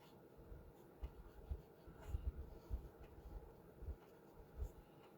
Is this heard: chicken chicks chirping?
no